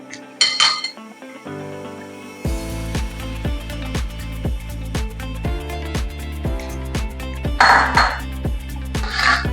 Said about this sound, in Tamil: சிக்கன் சேர்த்து நல்லா அதை மிக்ஸ் பண்ணணும் இந்த மசாலாவோட